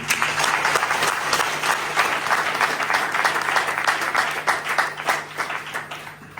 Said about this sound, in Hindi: हम चाहेंगे उस महान व्यक्ति के लिए जोरदार ताली हो